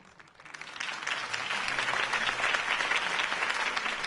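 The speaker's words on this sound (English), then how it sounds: "If only Mr. Wayne, my campaign's largest backer, could have heard that applause" Applause from a crowd in the video game Batman: Realm of Shadows swells up from quiet and holds steady, many hands clapping continuously.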